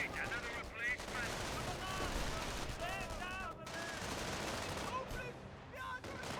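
Rapid, overlapping gunfire from a battle in the video game Company of Heroes crackles continuously at moderate, distant level, mixed with game effects and no clear speech.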